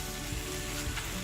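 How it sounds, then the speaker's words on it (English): Shiitake mushroom, chicken and green bean fried rice sizzling steadily in a pan while being stirred, a close, continuous crackle with soft scraping bumps, no talking. "We're going to give this a good stir."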